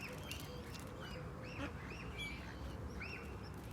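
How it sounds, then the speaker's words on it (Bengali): Ducks on a London pond quack repeatedly in short nasal calls, several birds together over a steady low outdoor rumble. "এত ছিল না, এবারে তো বেশি, অনেক হাঁস।"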